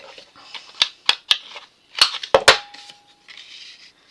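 Scissors snipping through patterned scrapbook paper trimmed down for a Graphic 45 envelope album, several sharp close cuts in a quick irregular series with brief quiet gaps between.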